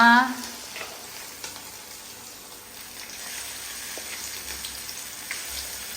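Food slid slowly into hot oil sets off a soft, continuous sizzle and gentle frying crackle after a brief louder sound at the start, with occasional faint clinks and no talking.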